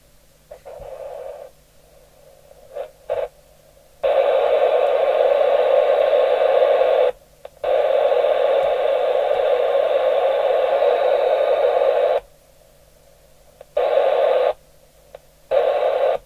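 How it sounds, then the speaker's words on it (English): Merit 6000 handheld UK FM CB radio tuned to a channel with a dead-key carrier: bursts of steady hissing static switch on and off, including one long stretch, with short gaps of near silence between. "Out of all the channels, that's the one that sounds like it's got dead key on it"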